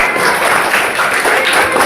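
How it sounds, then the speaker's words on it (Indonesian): A classroom of pupils applauds a student group in a dense, steady wash of clapping, loud and continuous throughout with no pauses. "Oke, kita tepuk tangan untuk kelompok 1"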